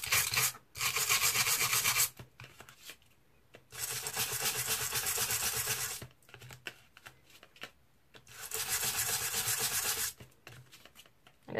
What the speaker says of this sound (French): vous pouvez le poncer aussi sur les bords